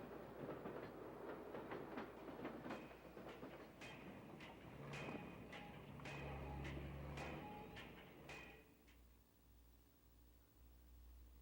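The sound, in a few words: debris train rolling on railroad tracks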